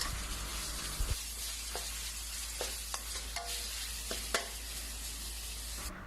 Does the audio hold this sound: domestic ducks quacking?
no